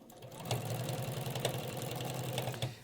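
A sewing machine stitching an undercollar onto a shirt body, running in one steady continuous burst at close range with a regular rapid mechanical rhythm and no voices.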